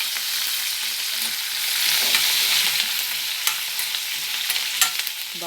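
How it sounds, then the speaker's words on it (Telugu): Curry leaves dropped into hot oil with cumin and green chillies give a bright, steady crackling sizzle, with a few sharp spatters and light stirring scrapes close by and no talking. "ఇది కరివేపాకు వేస్తున్నాం"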